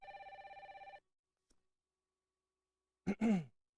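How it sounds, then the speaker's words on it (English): A holster phone in a 1996 children's safety program rings with a steady electronic trill for about a second, followed by silence and then a short vocal sigh. "That's my holster phone."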